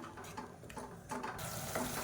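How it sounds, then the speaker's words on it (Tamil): Salt and turmeric stirred and sautéing in a pan for pongal, a soft sizzle with scraping stir strokes, faint and close, no talking. "இப்போ இந்த பொங்கலுக்கு தேவையான உப்பு, 1/4 டீஸ்பூன் போல் மஞ்சள்தூள், இது எல்லாத்தையும் நல்லா வதக்கிக்கலாம்"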